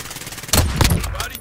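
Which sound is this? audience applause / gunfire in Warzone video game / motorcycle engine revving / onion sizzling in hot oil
gunfire in Warzone video game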